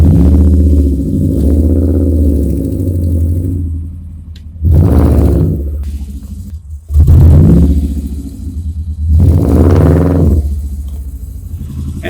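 A car with a previously seized brake starting to roll, loud low engine rumble with a few sharp surges and clattering bursts as it moves, close and without talking.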